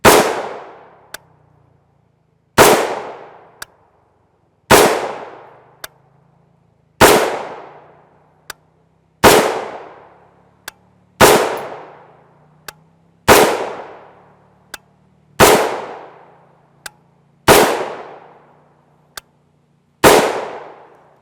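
A 14.5-inch AR upper from Pro 2A Tactical fires 5.56 NATO 55-grain FMJ M193 Fiocchi rounds, about ten loud, sharp shots at an even two-second pace, each trailing off in a ringing echo, with faint pops between them.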